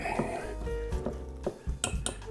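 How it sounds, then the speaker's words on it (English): Whisk clinks and scrapes against a bowl while mixing a wet no-knead brioche dough, flour being worked in, with several sharp metallic taps near the end and faint voice underneath. "all we're doing is mixing it up, making sure that all the flour has been mixed in with it"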